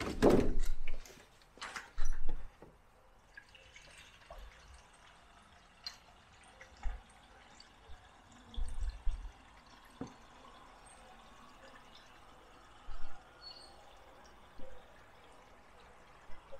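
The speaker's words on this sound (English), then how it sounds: "I think I will put a little bit of water in there" Water is poured into the coolant system of a Kohler 10 kW marine generator, heard as intermittent bursts of splashing and gurgling with clunks and quiet gaps between pours.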